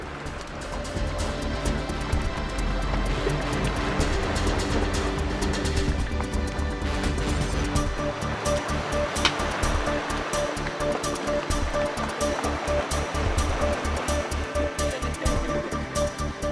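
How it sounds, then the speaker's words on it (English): Antarctic icebergs drifting in sea water, a steady dense wash of fizzing, popping bubbles and low grinding ice, loud and continuous throughout with no voices. "The sound of bubbles popping, the sound of ice grinding against itself."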